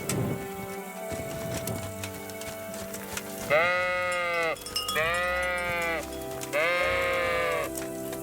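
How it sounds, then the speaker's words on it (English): Sheep bleat in the Kingdom Come: Deliverance video game, three loud wavering calls a second or so apart over steady background ambience, close and alone without speech. "Those sheep really need to be quiet."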